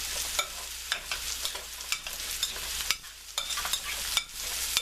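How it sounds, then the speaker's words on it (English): A spoon scrapes and swishes through vegan black bean tapenade seasoned with Italian seasoning, stirring in a steady rhythm with soft repeated knocks, close and alone. "I'm going to mix it up here and give it a taste."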